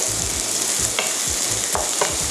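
Vegetables including zucchini being stir-fried in a pan for udon, giving a steady loud sizzle with repeated scraping stirs, no voices.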